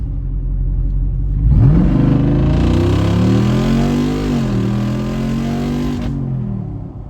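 A Jeep Rubicon 392 V8 revs hard during a launch, a loud close rumble that rises steeply and then holds a strong, rising engine note for several seconds before easing off. A deep idle comes before and after.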